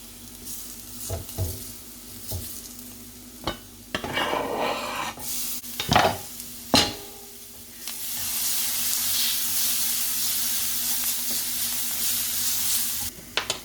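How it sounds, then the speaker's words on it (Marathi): Onions with finely chopped ginger and garlic frying in a pan, scattered stirring knocks and scrapes giving way to a loud, even hiss of sizzling oil, no talk. "आतां हें हितून फ्रायींग पॅनांत ऑनियनां मिक्स करुया."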